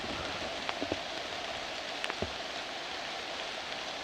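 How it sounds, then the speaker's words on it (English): Soft steady rain patters through woodland, a quiet even hiss with a few faint nearby drips and knocks. "It feels different when it's raining."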